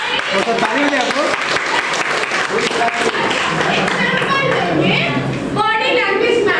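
Audience applause at a teacher-training session, steady dense clapping from a crowd filling the whole stretch, with a few children's voices and chatter mixed in.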